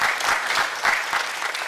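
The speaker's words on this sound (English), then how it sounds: "A round of applause for that." Short, steady burst of audience applause at a leadership event, many hands clapping together at moderate loudness with no speech over it.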